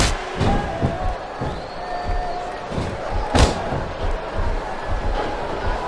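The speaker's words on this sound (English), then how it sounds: "The crowd is coming alive." Crowd noise from a wrestling arena in the video game WWE SmackDown vs Raw 2007, during a Melina vs Jillian Hall Iron Man match, a steady roar with a sharp slam near the middle and faint voices underneath.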